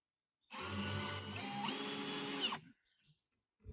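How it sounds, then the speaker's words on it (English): A power drill bores a hole into the middle of a log, a loud, close whirring burst of about two seconds that stops abruptly, followed by quiet and a faint knock. "is drill a hole in the middle"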